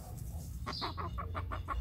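Hens on a farm pecking at small cicadas, a run of short, evenly spaced clucks close by over a steady outdoor background.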